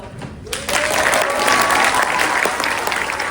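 A school spring orchestra concert audience bursts into loud, sustained applause for the student players standing as their names are called, starting abruptly and holding steady to the end.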